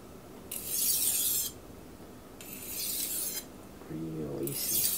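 Three rasping strokes of a knife blade across Miyagoshi sharpening stones, each about a second long with short quiet gaps between, close and distinct, with a brief low tonal clink near the end of the third.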